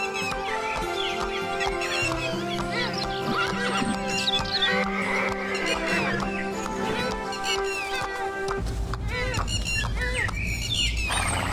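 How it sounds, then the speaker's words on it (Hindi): A horse in a children's cartoon story neighs and whinnies while hooves clip-clop, with birds chirping around it and soft background music throughout. "राजा महल से घोड़े पर सवार होकर अकेले ही निकलता है"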